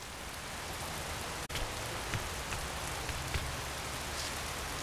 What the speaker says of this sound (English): Because the fact that there's all this rain